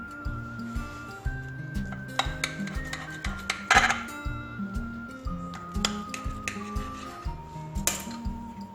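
Cutlery clinks and scrapes against a dish while a cauliflower gratin is cut and served, a steady run of close, light metallic taps with one brighter clatter midway, over a continuous musical tone.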